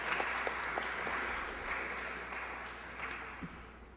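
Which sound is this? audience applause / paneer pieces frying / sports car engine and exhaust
audience applause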